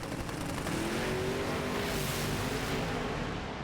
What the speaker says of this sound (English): On and off the throttle for Coughlin, and that's all she wrote